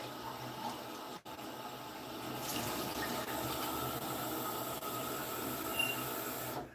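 A tap runs to fetch fresh water, a steady close splashing stream that starts after a brief pause and continues evenly before cutting off at the end.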